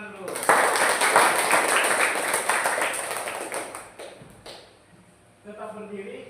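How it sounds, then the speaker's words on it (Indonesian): A standing class of students claps together, a full burst of many hands lasting a few seconds before trailing off, followed by quiet and then a voice speaking. "Oke, tepuk tangan dulu."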